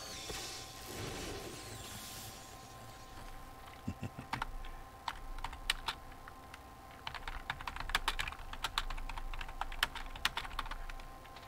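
Computer keyboard keys tapped in irregular bursts, quiet at first and then quicker clusters of sharp, close clicks over a low steady hum.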